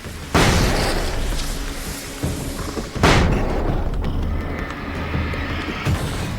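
A flashbang grenade goes off in the video game Control, with two loud booming blasts a few seconds apart, each followed by a lingering rumble under a steady game soundscape.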